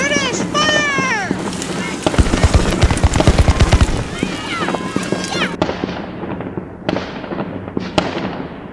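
A volley of muskets fired by British reenactors at a Camden battle reenactment, sounding as a loud burst of overlapping shots with crackling echoes that rolls on for several seconds outdoors, with voices calling out at the start.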